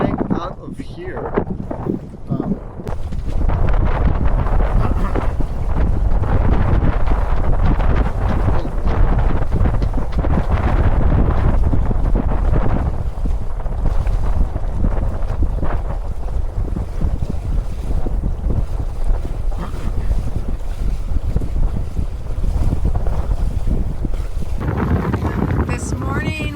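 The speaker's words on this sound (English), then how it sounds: "we are sailing out of here." A sailboat under way in strong wind, with loud constant wind rush buffeting the microphone and water washing past the hull for nearly half a minute, easing briefly at the end.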